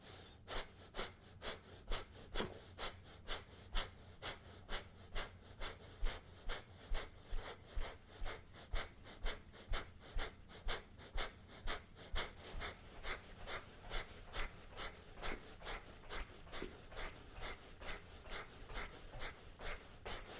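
Steady, rhythmic breathing during a Tadasana Kriya standing yoga exercise with hopping, sharp regular breaths repeating about once a second for the whole stretch, close and moderately loud with no talk.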